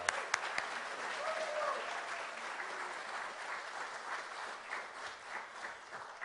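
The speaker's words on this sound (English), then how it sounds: "Let's give them a round of applause." Audience applause at a civic meeting following a Tulsa Symphony Orchestra trio's musical interlude, a steady round of clapping from a room of listeners that holds evenly for about six seconds, fairly quiet and slightly distant.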